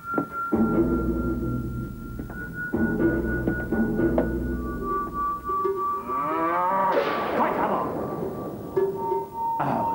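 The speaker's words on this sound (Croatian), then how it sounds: "To je samo krava." A cartoon cow moos in long, low, drawn-out calls, loud and close, followed by a brighter rising squeal and noisy rustle in an animated scene.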